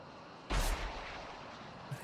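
A surface-to-air missile detonating in the flight combat game Tiny Combat Arcade: one sudden loud blast that decays into a sustained rumble over the rest of the moment, with a small second burst near the end.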